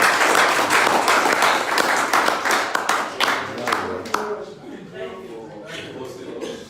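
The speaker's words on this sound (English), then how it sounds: "a round of applause for" A crowd at a town hall meeting in Athens, Greece applauds loudly, dense clapping that gradually thins and fades as voices begin to emerge underneath.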